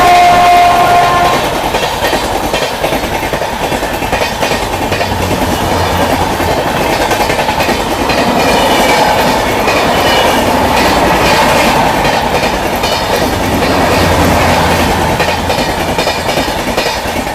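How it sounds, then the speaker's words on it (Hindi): The Purushottam Express rushes past at close range, a loud continuous rumble of wheels and clickety-clack from passing coaches with a horn sounding near the start, heard from aboard another train during heavy rain. "बाकी ये गई अपनी पुरुषोत्तम एक्सप्रेस।"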